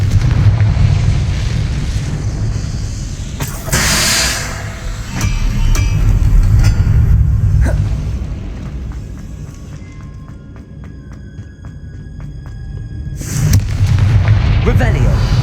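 Confringo fire-spell explosions in the Hogwarts Legacy video game: repeated booming blasts over a dense rumbling battle bed, loud and close, with a short quieter stretch before another heavy burst.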